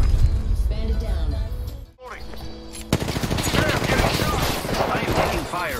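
Rapid gunfire in the video game Apex Legends rattles in fast bursts, dropping out briefly midway before resuming loudly, with a voice talking over the shots.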